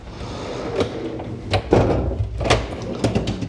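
A few short clattering knocks and scrapes as a metal tool box drawer slides open and bumps, in a quiet room.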